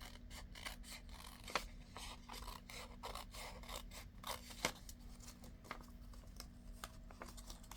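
Scissors snip off a small flap of envelope paper to cut bulk for a journal insert, giving steady close crisp rasping strokes with a couple of sharper clicks, no talking.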